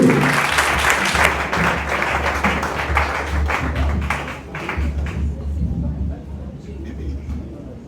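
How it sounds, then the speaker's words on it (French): A comedy festival audience in Goma applauds loudly, dense clapping over a low hum, with voices mixed in; the clapping thins and softens toward the end. "On applaudit très fort pour aller s'il vous plaît"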